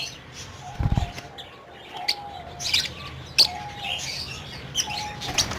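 Caged doves and pigeons at a bird sale give scattered short chirps and calls, faint to moderate, with one brief thump early on over quiet background noise.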